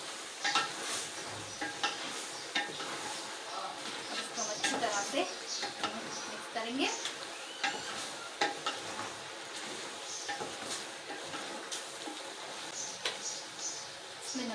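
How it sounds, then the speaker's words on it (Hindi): Mutton salan for Eid frying in a pot, a steady close sizzle broken by frequent scraping, clinking stirs of a spoon against the metal, running throughout with someone talking over it. "अच्छी तरह से भुनाई कर लेंगे"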